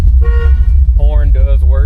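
Horn of a 1971 Chevelle sounds in two short loud blasts close up over a low idling rumble, a steady tone followed by a wavering one.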